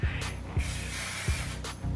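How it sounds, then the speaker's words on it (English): Wella Stay Firm hairspray sprayed from an aerosol can onto small sections of short hair, a close, steady hiss running through the whole stretch with a faint rhythmic ticking underneath. "So I use the Wella Stay Firm hairspray"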